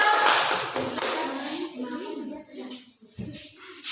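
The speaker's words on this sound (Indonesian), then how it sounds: "Yang tepuk tangan untuk kelompok 3." Classroom audience claps for a student group, a dense patter of hand claps filling the clip with voices talking over it.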